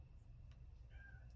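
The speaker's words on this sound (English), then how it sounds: "My cat's meowing in the background." A pet cat meows faintly in the background of a quiet room, one brief thin call rising over a low steady hum.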